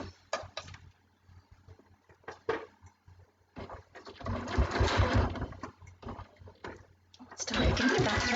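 A sewing machine stitches quilt binding, sewing in short bursts and then longer steady runs of rapid mechanical whirring, up close and fairly loud, with brief pauses between passes.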